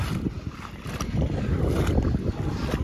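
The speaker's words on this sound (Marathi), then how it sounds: "चालू आहे मिनी ट्रॅक्टर चिखल करण्यासाठी" A mini tractor churns mud in a flooded rice field during monsoon planting near Kolhapur, a low rumbling, sloshing drone that is continuous and moderately near, with wind across the microphone.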